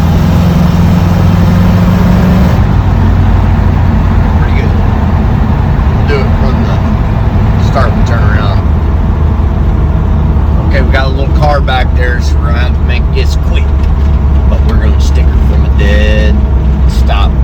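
Datsun 280Z engine revving hard at wide open throttle on a cold, wet road, a loud continuous roar that swells after the first couple of seconds, with occasional speech over it.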